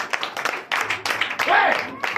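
A church congregation at a Sunday service in Comè, Benin, bursts into uneven applause: a run of sharp claps near at hand, with a voice rising over the clapping partway through.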